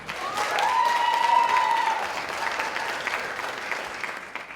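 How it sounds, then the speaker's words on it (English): A crowd at a startup challenge grand finale claps for a finalist team, broad sustained applause with a faint tonal whistle-like tone briefly riding above it, fading slightly toward the end. "give a big round of applause for Ungraded Produce"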